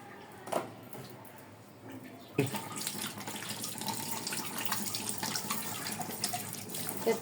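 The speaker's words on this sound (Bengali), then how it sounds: "আগে হাতটা ধুয়ে নেই" Running tap water pours onto hands being washed at a sink, starting quiet and then swelling into a continuous close splash that carries on to the end.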